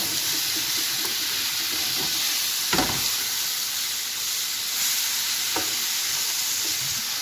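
Seafood for a pasta dish sizzles and fries in a pan, a constant hiss broken by a few sharp stirring scrapes, loud and near with no voices.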